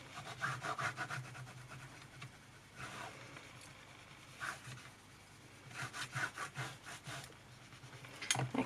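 A bone folder rubs firmly back and forth along paper on a book spine, making close, quiet, rhythmic scraping strokes in short bursts with brief pauses between.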